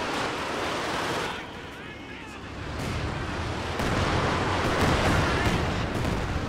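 An artillery barrage in Company of Heroes 2 rumbles in a steady, dense roll of booming impacts, growing louder toward the end, while a voice talks over it.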